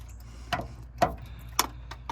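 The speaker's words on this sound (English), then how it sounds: "as I start removing these bolts, more fluid's gonna come out" A ratchet wrench loosening bolts on a Dodge 46RE transmission, heard as a few quiet, evenly spaced mechanical clicks about half a second apart, close but faint, with no talking.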